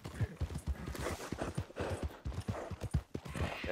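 Horse hooves clip-clopping in a steady galloping rhythm while riding in Red Dead Redemption 2, close and fairly loud, with quiet speech faintly underneath.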